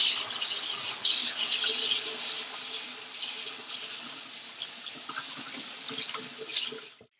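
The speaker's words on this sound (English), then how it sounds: "First step, wash your hands." Running tap water splashes steadily over hands being washed at a kitchen sink before making Japanese rice cakes, a close, continuous hiss that fades out at the end.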